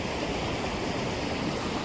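Stream water flows steadily through a park in Whitecourt, Alberta, a constant broadband rush with no breaks, fairly close and alone with no voices.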